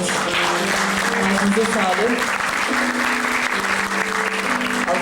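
A hall audience claps after a poetry recitation at a Nazım Hikmet commemoration evening, a loud continuous roar of applause throughout, with a voice briefly offering praise over it.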